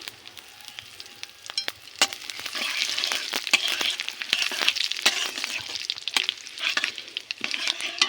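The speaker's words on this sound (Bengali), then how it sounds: "তেলটা গরম হয়ে গিয়েছে, এখন ফোড়নে দেব পাঁচফোড়ন, দিয়ে দেব গোটা তেজপাতা" Panch phoron spice mix and whole bay leaves sizzling in hot mustard-style oil, a dense crackle of small sharp pops and spits building over a steady frying hiss, close and with no talking.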